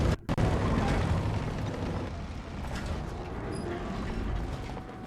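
A deep explosion from the World War II game Call of Duty WW2 rumbles and roars loudly, followed by a long, dense wash of battle noise with no voices.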